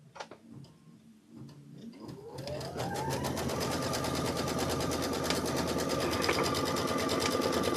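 A sewing machine stitches a quilt block, starting up after a few quiet clicks, then running at a fast, steady, close rhythmic whir.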